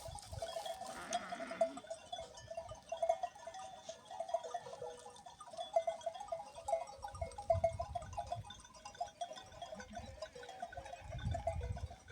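Sheep bleat repeatedly at a mountain pasture flock, calls near and far overlapping in an irregular chorus, with faint bell clinks and low rustling underneath.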